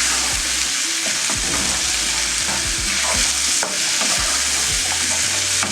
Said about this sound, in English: at this point, I'm just going to add in my tomatoes